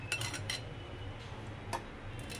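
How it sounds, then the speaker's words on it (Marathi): Carrot halwa with cardamom powder and grated nutmeg stirred in a pan, faint metallic clinks of a spoon against the pan over a quiet background, no voices. "छान असं हलवून घेऊया"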